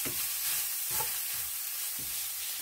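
Sage sausage renders in a pan with a steady, close sizzle, broken by a few soft stirring scrapes.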